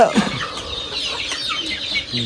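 Chickens, including wild jungle fowl, cluck in short, scattered bursts close by outdoors, with overlapping calls and a busy background over a couple of seconds.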